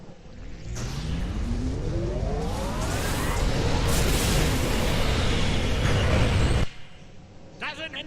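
Overloaded conduits blow up in the Star Trek Online video game, a loud sustained rumbling explosion that swells for several seconds and then cuts off abruptly.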